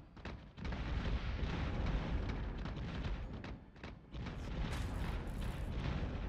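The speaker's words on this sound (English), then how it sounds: "Fire those torpedoes." Torpedoes launching and detonating in the space combat video game Battlestar Galactica Deadlock, a dense, continuous rumble of booming blasts that dips briefly midway and then surges again.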